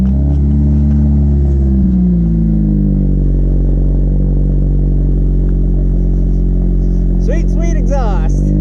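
A 2020 Chevy 1500 pickup with a 5.3L V8 engine and a new exhaust idling loudly and close, a deep steady rumble that rises briefly near the start, with voices talking over it toward the end.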